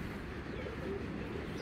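Imported Pakistani white Kamagar pigeons coo softly in a continuous low murmur, faint and steady with no distinct individual calls.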